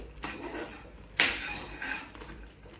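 A utensil scrapes and knocks inside a pan while thickening wood apple candy paste with cornflour slurry is stirred over medium-high gas. A few close, soft scrapes lead up to one sharper clink.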